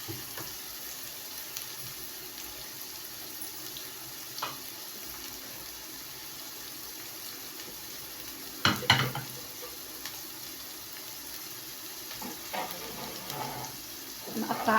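Shakshuka fries quietly in a pan under a faint, steady sizzle, with occasional scraping stirs and a louder clatter of utensil near the middle.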